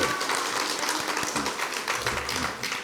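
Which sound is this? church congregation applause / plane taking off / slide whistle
church congregation applause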